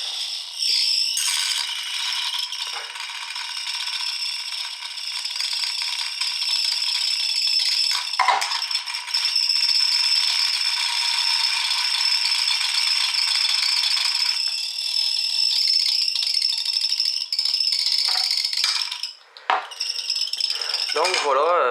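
A homemade overunity motor-generator spins up, giving a steady, loud mechanical rattle and ratcheting whir with a faint squeal that holds throughout, close by and alone apart from a brief dip near the end.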